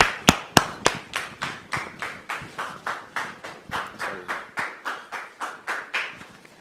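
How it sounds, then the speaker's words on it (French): A handful of people in a studio clap in a steady, evenly spaced rhythm, each clap crisp and distinct, moderately loud and close, with no talking over it. "Sous vos applaudissements, s'il vous plaît."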